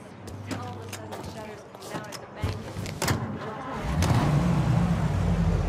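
A car engine in the video game Mafia Definitive Edition rumbles low and steady, rising louder toward the end as the vehicle pulls away, with a few sharp clicks and knocks over the top.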